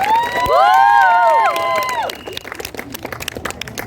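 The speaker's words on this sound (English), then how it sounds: "round of applause" At the final of a women's T20 cricket championship, a crowd cheers with loud shouts and whistles, then breaks into scattered clapping that continues, close and lively, as the cheering drops away.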